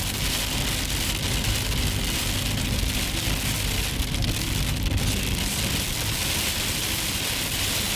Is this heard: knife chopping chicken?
no